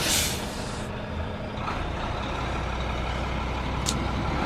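A moving truck pulls away with a steady low engine rumble and road noise, a short hiss of air brakes at the start and a brief high beep near the end, close and loud.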